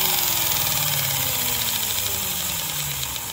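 Bedini pulse motor fitted with eight coils turns at low RPM, giving a steady, close-up mechanical hum with a rapid repeating knock-like pulse running throughout.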